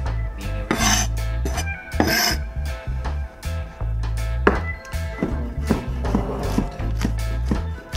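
Knife chopping mushrooms on a cutting board in a home kitchen, a close, busy run of quick, uneven cuts and scrapes at a steady moderate level, with no talking.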